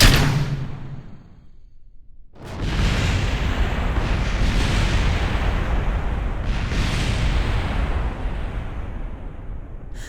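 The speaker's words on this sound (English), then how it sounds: "we're going to be bombing the landing pad" A bomb hits the landing pad in Kerbal Space Program and sets off a heavy booming explosion after a brief lull, followed by a long, loud rumbling roar that fades slowly.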